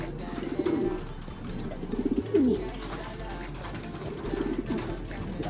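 Several pigeons coo, a rolling, throaty murmur that rises and falls over a few seconds, with a brief thump partway through and a steady low hum beneath.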